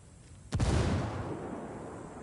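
A frag grenade goes off in the shooter game Ghost War: one sudden, close, loud blast followed by a long rumbling decay that fades slowly, with nothing else around it.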